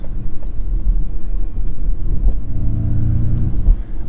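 A 2021 Ford Mustang Mach E electric car drives with a steady low rumble and road noise, while a synthetic whirring tone swells and rises toward the end.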